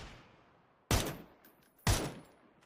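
Two loud, sharp bursts of gunfire in the battle royale game PUBG, each followed by a decaying echo, spaced about a second apart.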